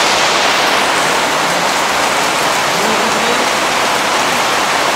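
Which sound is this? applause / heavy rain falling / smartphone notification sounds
heavy rain falling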